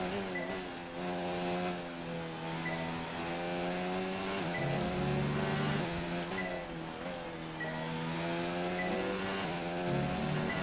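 F1 2019 race car engine at the Austrian Grand Prix in the video game, a steady high whining roar that dips and rises with gear changes as the car rolls through a corner, continuous and close, no voices.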